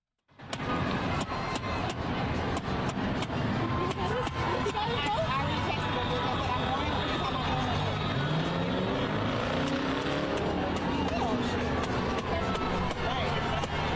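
A street protest with police blocking traffic fills the air with sharp repeated cracks like fireworks going off, over a dense, continuous wash of distant crowd noise, engines and honking, with a voice talking throughout.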